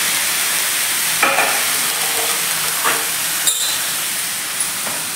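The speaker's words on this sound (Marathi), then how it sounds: "आता आपण हे फ्लॉवरचे तुकडे आहेत ते यामध्ये घालून" Cauliflower pieces tossed into a pan of spices fry with a loud, steady sizzle and hiss, broken by a few scraping stirs close up.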